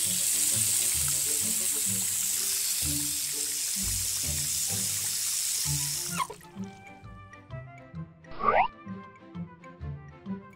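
Water runs steadily from a kitchen tap while sea buckthorn, blueberries and red currants are washed. The soft, continuous splashing stops after about six seconds and gives way to light clinks and brief handling sounds.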